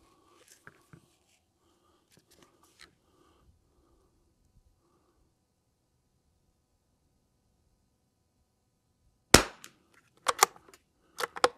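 Three sharp .22LR rifle shots with Lapua Midas Plus ammunition crack out after a long near-silent stretch, one isolated report followed by two more in quick succession, with faint handling noises earlier.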